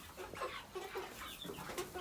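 Baby chickens in a goat stall, peeping and clucking in quick, overlapping chirps that come close and keep steady through the moment with no voices.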